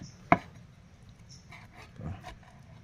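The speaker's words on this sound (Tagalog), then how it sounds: "pwede na po natin yan tadtarin" A knife chops boiled meat for bopis on a cutting board: one sharp, close chop near the start, then a softer knock later, with quiet gaps between and no talking.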